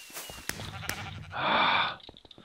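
A sheep bleats in a team video game about stealing sheep, one loud, drawn-out call rising midway through, with soft game noises before and after.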